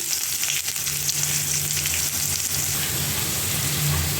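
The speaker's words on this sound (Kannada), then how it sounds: "ಇವಾಗ ನಾನು ಮೆಣಸಿನಕಾಯಿ ಹಾಕ್ಕೋತಾ ಇದ್ದೀನಿ ಮತ್ತು ಕಟ್ ಮಾಡಿ ಇಟ್ಕೊಂಡಿರೋ ಒಂದು ಈರುಳ್ಳಿ ಹಾಕ್ಕೋತಾ ಇದ್ದೀನಿ" Chillies and chopped onion hit hot oil with popped mustard seeds, giving a dense, steady sizzle with faint crackles close by, no voices over it.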